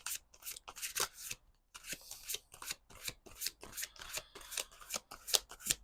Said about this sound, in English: I'm going to try and hold all of these cards, but there's a lot.